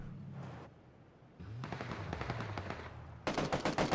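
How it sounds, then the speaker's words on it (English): Gunfire in PUBG during a competitive esports match, several rapid bursts of automatic fire spaced across the moment, the last burst loudest and sharpest, heard alone without commentary over it. "Shots coming in right into the face of TSM."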